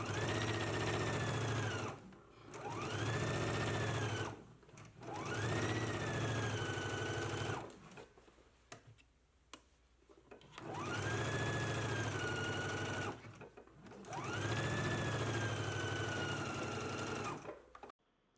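A sewing machine stitches a center seam in bursts of a few seconds each, its motor whine rising and settling, with short quiet gaps and handling noises between runs.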